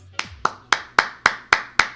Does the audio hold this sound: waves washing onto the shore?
no